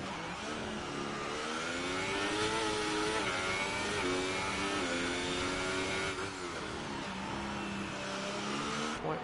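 An F1 2018 race car on a flying lap of the Azerbaijan circuit, its engine whining steadily with pitch rising and dropping through gear changes and corners, heard from the cockpit.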